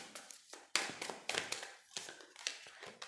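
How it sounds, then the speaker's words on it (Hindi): Cards from a tarot deck are tapped and handled on a surface, giving a few close, crisp taps and light shuffling clicks at an uneven pace. "मैं यहाँ पर फिर से टैरो डेक लेने वाली हूँ"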